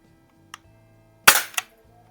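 A single sharp crack from a Barra 1866 Jr. single-stroke youth BB rifle, loud and close, followed by a quick secondary snap, with a faint click beforehand and quiet around it.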